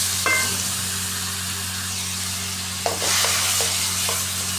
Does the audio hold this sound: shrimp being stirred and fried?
yes